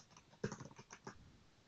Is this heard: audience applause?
no